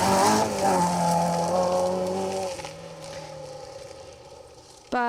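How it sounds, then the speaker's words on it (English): A Peugeot rally car races past on a forest rally stage, its engine loud and close, then shifting down and fading with a brief tire squeal before another burst at the end. There is no talking. "By Giles Armitage and Josh Rhodes in the Peugeot"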